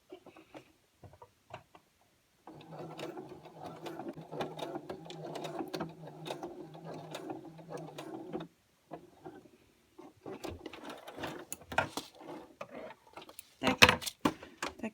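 A sewing machine stitches the pages of a scrapbook mini album, running in a steady mechanical burst of about six seconds, then stopping, followed by scattered handling clicks and taps close by.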